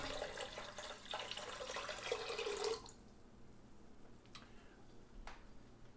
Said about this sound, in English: And then you add 2 cups of apple cider vinegar.